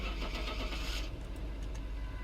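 A truck engine sound effect cranks and catches, then settles into a low rumbling idle, loud and close, with no talking.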